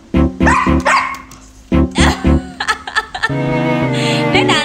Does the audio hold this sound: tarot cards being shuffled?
no